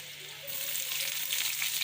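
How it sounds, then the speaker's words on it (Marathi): Onion dropped into hot oil, a sudden close sizzle that swells into a steady, loud frying hiss and holds there. "आता कांदा टाक."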